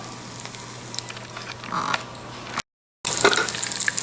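Parsnip patties frying in oil in a pan, a steady close sizzle with crackling pops that breaks off briefly and then resumes just as loud.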